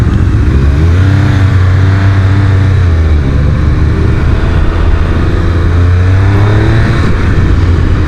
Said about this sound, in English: so far the engine is silky smooth